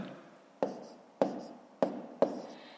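Numbers written by hand during a fifth-grade math exercise: four quiet, sharp pen strokes spaced about half a second apart, each trailing off briefly, in a hushed room.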